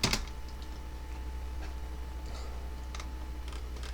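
Light clicking of keys on a computer keyboard as a command is typed in a quiet room, with sparse, irregular taps over a faint steady hum.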